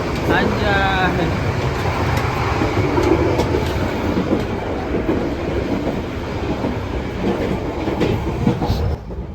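An Indonesian passenger train rolls along the rails with a steady rumbling clatter and rhythmic clicks, heard from inside, with voices murmuring beneath the noise.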